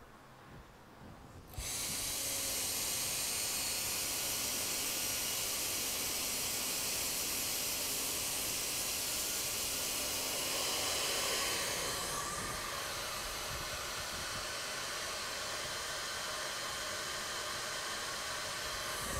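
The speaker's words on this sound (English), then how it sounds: "I'm going to help it with the hairdryer" A hair dryer starts abruptly and then blows as a steady, loud, hissing roar, used to warm an Intel i9 7940X processor setup cooled with liquid nitrogen during extreme overclocking. The airflow holds nearly constant, shifting slightly partway through.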